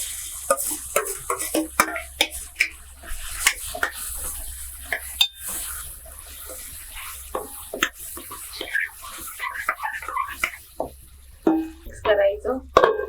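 Mango raita poured into a hot tempering of reddened garlic and Kashmiri red chilli powder, giving a crackling sizzle mixed with scattered clinks and scrapes of a pan and spoon, close and moderately loud throughout.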